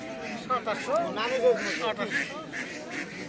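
Domestic ducks quack in short, repeated bursts at a busy rural poultry market, close by and mixed with people talking nearby.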